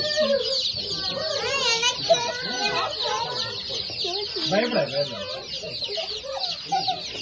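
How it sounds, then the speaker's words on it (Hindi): Chickens clucking at a farm on a hill station visit in Yelagiri, Tamil Nadu, a steady close chorus of clucks and chirps with a voice and other talk mixed in throughout. "ये चिक्स बहुत क्यूट थे।"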